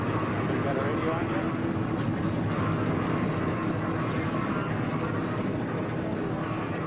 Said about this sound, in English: So the engines have come to life on all 43 cars